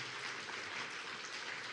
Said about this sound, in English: just a round of applause for those who are joining us around the world